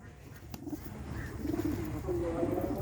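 Village pigeons coo softly in a low, rolling repeated pattern, fairly faint against a steady background hum, with no talk over them.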